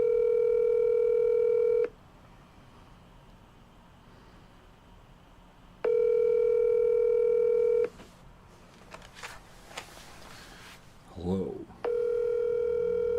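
A telephone call ringing out: three long, steady electronic ringback tones at regular intervals, with brief handling noise and a single spoken word in one of the gaps.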